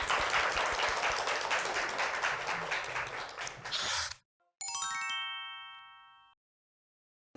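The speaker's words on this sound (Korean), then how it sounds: "박수로 한번 청해 듣겠습니다" An audience at a youth lecture show applauds with dense, steady clapping for about four seconds, then falls quiet; a bright chiming jingle rings out alone and fades.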